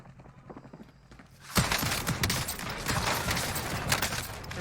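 Rapid bursts of gunfire from the Gallo shotgun in Call of Duty Warzone, loud and dense after a quieter opening, with sustained blasts and battle clatter filling the rest of the clip.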